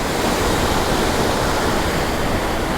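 Rain-swollen water rushes loudly and continuously beside a road, a dense, close, unbroken roar with no other sounds.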